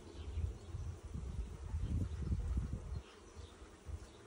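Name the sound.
bees buzzing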